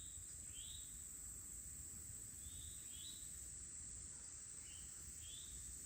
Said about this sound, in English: I'm hearing a beetle that's kind of going nonstop.